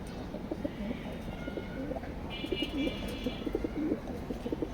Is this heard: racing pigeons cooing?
yes